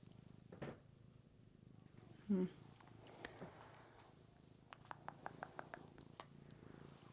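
A low, soft cat purr rumbles steadily and faintly, broken by a short vocal sound and a few small clicks and taps.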